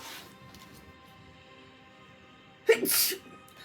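A single sharp sneeze bursts out near the end after a quiet stretch with faint background noise.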